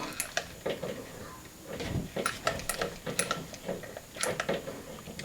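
A Sentro circular knitting machine is cranked by hand, giving a run of irregular plastic clicks and ticks up close, with soft knocks and some low voice in the background.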